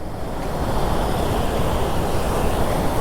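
Floodwater roars through a swollen mountain stream in Himachal during heavy rain, a loud, dense, continuous rush close by with no speech.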